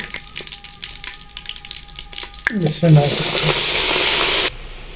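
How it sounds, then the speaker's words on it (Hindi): Quiet kitchen clatter, then a sudden loud sizzle as a tempering hits hot oil for a fenugreek (methi) dish, hissing steadily for a couple of seconds before cutting off. "यही इसका तड़का है जो हमने लगा दिया।"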